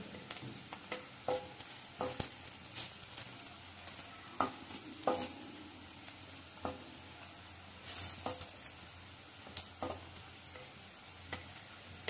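Faint oil sizzles steadily as cumin seeds temper in a pan while a spoon clicks and scrapes now and then as it stirs.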